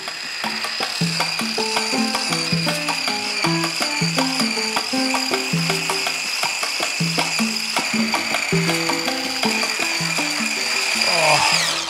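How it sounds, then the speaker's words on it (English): An electric whisk whips a herbal moisturizer made with olive oil, a loud whirring motor with shifting pitch and rattling beaters knocking against the bowl, continuous for about twelve seconds with no talking. "whipping it up, just with an electric whisk to get loads of aeration in this moisturizer"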